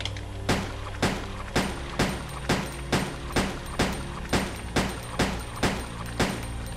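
Rapid, evenly spaced gunshots fired at a tentacle in Resident Evil Code: Veronica, about a dozen sharp reports in steady rhythm over a low droning game soundtrack, loud and close with no talking.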